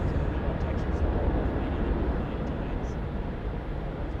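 An Emirates airliner at Sydney Airport at night makes a steady, loud broadband roar of jet engines, continuous throughout, with a voice talking over it.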